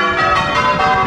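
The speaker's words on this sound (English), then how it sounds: "church bells tolling over Bollington" Church bells of St John's Church in Bollington ring out together, loud and resonant with overlapping strikes and a continuous metallic hum across the whole brief moment.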